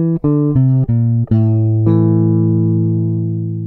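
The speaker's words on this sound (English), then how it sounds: "So A Phrygian would sound like this." An A Phrygian scale played as a short run of plucked notes rising one after another, five quick tones then a final note left ringing and slowly fading.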